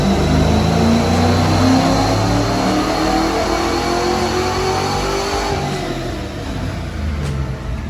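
A loud engine on a 1964 Mercury Comet held at high revs during a dyno pull, its pitch climbing slowly, then easing off toward the end as the roar settles down.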